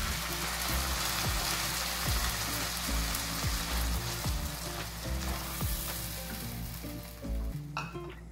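Tomato sauce for meat-filled pancakes sizzles and bubbles steadily in a pan, with a few clinks of a spoon stirring through it; close, continuous and alone, with no voices.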